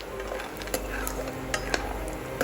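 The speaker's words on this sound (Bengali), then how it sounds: "এবার আমি এই বড়িটাকে ভেজে নেব।" Homemade lentil dumplings (bori) fry in mustard oil with a soft sizzle, while a utensil stirs and clinks against the pan several times close by.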